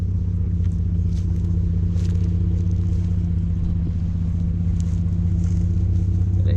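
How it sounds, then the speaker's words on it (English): Ford F-150 EcoBoost pickup with an AWE exhaust and SPD resonator runs with a steady, deep, throaty rumble, loud and close, with no audible talk. "The truck is no longer quiet."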